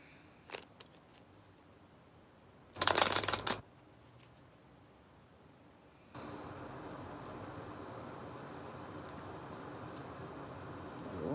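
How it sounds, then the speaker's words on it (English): A deck of cards is riffled in one quick, crisp burst lasting under a second, close and clear against a quiet room, followed later by a steady low hiss. "One more shuffle."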